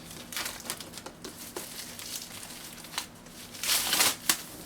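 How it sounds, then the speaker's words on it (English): Crinkling and tearing of plastic wrap as a Superman Action Comics deluxe edition book is unwrapped, close and fairly quiet, with irregular bursts and a louder rustle near the end. "Okay, so let me just unwrap this."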